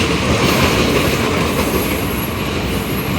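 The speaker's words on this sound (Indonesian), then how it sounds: "di jalur 4 ada kereta barang." Freight train on track 4 at JIS station rumbles past close by, loud and continuous, with steady wheel and rail noise throughout and no voices.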